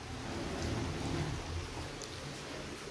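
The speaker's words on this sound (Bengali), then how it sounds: "আর আজকে সেই ভোর থেকে বৃষ্টি শুরু হয়েছে, একটা সেকেন্ডের জন্য বৃষ্টি থামেনি" Continuous heavy rain that has been falling since dawn without a pause, a steady, dense hiss and patter with no breaks and no voices.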